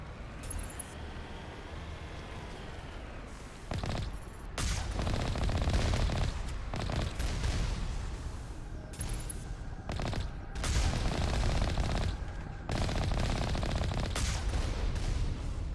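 Gunfire aimed at turrets in the video game Mass Effect comes as loud, sustained bursts of rapid shots with brief pauses between volleys, heavy and continuous.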